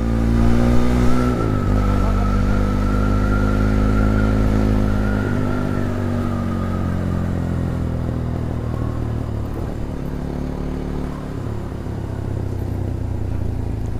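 A Bajaj Pulsar NS200 motorcycle is ridden on a road, its engine droning and revving loud and close throughout, pitch rising and falling through several gear changes.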